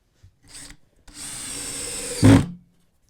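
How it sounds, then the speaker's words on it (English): A power drill with a DeWalt drywall screw setter bit whirs in short bursts, then runs steadily and bites with a louder grinding surge near the end while driving a drywall screw, before stopping, close up. "So we'll drive another one there just so you can see."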